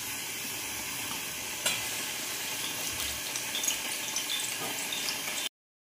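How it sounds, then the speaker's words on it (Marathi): Alu vadi, colocasia leaf rolls, frying in hot oil, a continuous dense sizzle with occasional louder crackles and stirring clinks, steady throughout before cutting to silence. "बघा आळूच्या वड्या तळीत आहे मी."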